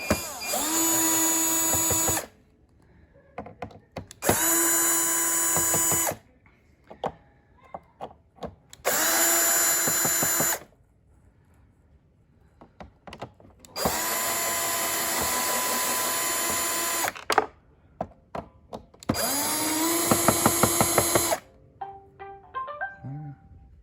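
A robot vacuum's motor whirs loudly in repeated bursts of a few seconds each, separated by quiet gaps with light clicks and handling noises.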